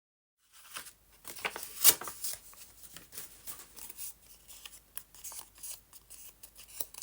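Scissors snip steadily around a paper shape cut out as a folded paper decoration, giving a run of close, crisp cuts and soft paper rustles with no voices.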